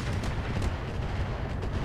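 Mech weapons firing in the BattleTech mod Roguetech, a dense, rumbling barrage of artillery-like blasts and gunfire rolling continuously at moderate volume, with no voices over it.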